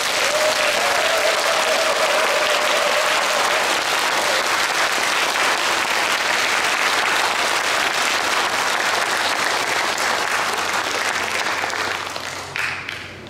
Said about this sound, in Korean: 너무 수고하셨다고 다들 한번 박수 한번.